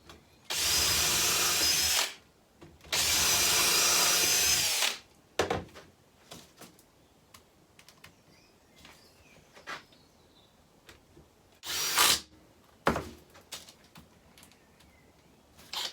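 A power drill, a DeWalt, whirs in two long bursts, followed by quieter clicks and handling noises, then a short buzzing burst of a Ferrex impact driver driving a screw near the end.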